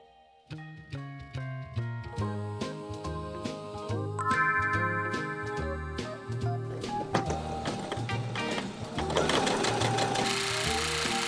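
Sewing machine top stitching a holiday tote bag in festive fabric, a steady rapid mechanical whir with rhythmic needle ticking that starts after a brief pause and runs continuously, loud and close, over faint background music.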